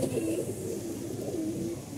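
A red-feathered Army pigeon of the Jiragola type coos in low, throaty tones, rising and falling twice over a couple of seconds, near and unaccompanied by talk.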